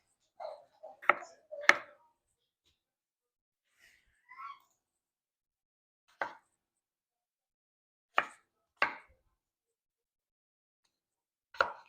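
A knife chops red potatoes into bite-sized chunks on a cutting board, heard as sparse, sharp thuds, a quick cluster at first and then single cuts spaced a couple of seconds apart in a quiet room.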